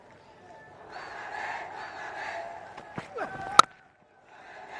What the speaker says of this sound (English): Now you can hear the crowd coming into it